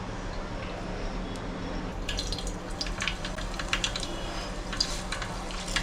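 Oil sizzles quietly in a pan as food is stirred, a soft continuous fry with sharper crackles and spatters starting partway through.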